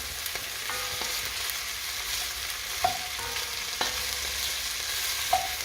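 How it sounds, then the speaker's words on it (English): Chicken curry base of softened vegetables fries steadily in a pan, with a soft continuous sizzle and occasional scraping stirs and light utensil clinks against the pan. "Keep stirring it."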